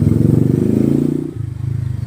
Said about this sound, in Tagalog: may dumaan na tricycle eh. Ah, motor.